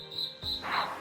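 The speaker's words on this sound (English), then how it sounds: "we all know how annoying those ninja cricket chirps can be" A cricket chirps close by in a high, steady trill, repeated in a few short bursts over quiet background noise, with no talking.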